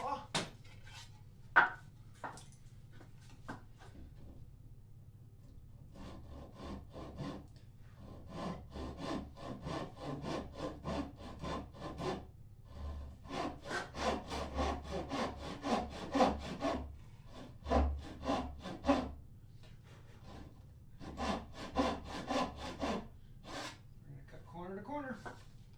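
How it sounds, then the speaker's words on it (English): A hand saw cuts across the grain of wood in a workshop, with steady rhythmic rasping strokes in repeated bursts, separated by short pauses. The sawing is close-up, and a voice is heard at times. "Grab my saw."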